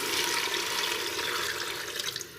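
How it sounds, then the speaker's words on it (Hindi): About two cups of water pouring into fried moong dal in a pressure cooker: a loud, continuous gushing splash that holds steady throughout, with no voices. "अब इसमें मैं डालने लगी हूँ पानी।"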